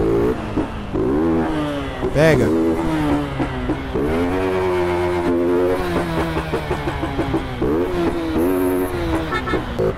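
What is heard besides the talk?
motorbike accelerating hard in video game GTA San Andreas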